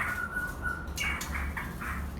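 An oriental magpie-robin (murai batu) chick gives thin, high chirping calls, a brief sustained whistle followed by a few short peeps, close by and faint over low background rumble.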